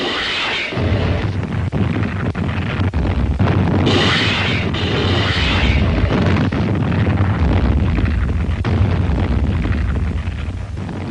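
Rocket ships bombard invasion beaches before a wartime landing, a continuous loud roar of rumbling explosions and blasts with no pause, heavy low-end booms layered under crackling bursts throughout.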